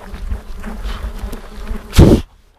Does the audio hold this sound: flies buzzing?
yes